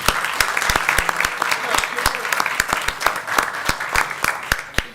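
A city council meeting in North Charleston gives a round of applause, with many hands clapping in a steady, moderately loud patter that lasts the whole five seconds.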